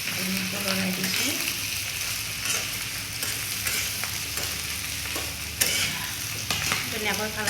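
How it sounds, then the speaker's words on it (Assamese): Pork curry frying and being stirred in a pan, a steady sizzle with repeated scraping and clinking of the spoon, close and continuous throughout. "এতিয়া এইটো ধুনীয়াকৈ লৰাই দিম। মাংস সিজি গৈছে দেই"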